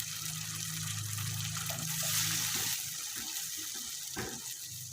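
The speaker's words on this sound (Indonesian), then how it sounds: "Masukkan air bekas blender." Leftover blender water poured into a cooking pot of spicy-sweet chicken feet, a steady gushing stream close by that continues throughout, with a brief louder splash near the end and no talk.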